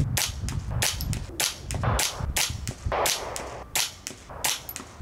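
A string of sharp rifle cracks at close range from a .22LR competition rifle firing Norma match ammunition. The shots come in quick succession, each loud and snapping, with no talking over them.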